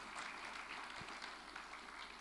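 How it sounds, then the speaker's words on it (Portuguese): Congregation at a church service applauding the Lord, a steady dense wash of clapping filling the whole stretch at moderate level with no pauses. "dê um aplauso bem forte ao Senhor em nome de Jesus"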